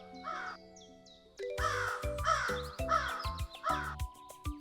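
Several loud, harsh caws from a crow repeat in a steady rhythm, close by, over a quieter musical background.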